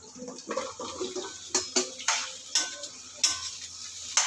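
Calabaza squash dropped into a pan with browned garlic and onion to sauté, with soft sizzling and sharp scraping clicks of a utensil stirring at an uneven rhythm, close by.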